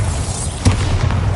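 A Confringo blast spell in a video game goes off as a short, booming explosion with a low thud and burst, close and loud over a steady background rumble.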